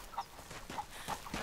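A chicken in the video game Rise of the Tomb Raider clucks in a few short, quiet bursts spaced across about a second and a half, with faint game ambience underneath and no talking.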